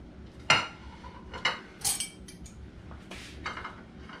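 Metal utensils clink and scrape against dishes while spaghetti with sauce is served, a handful of separate sharp clinks spaced irregularly over a quiet background.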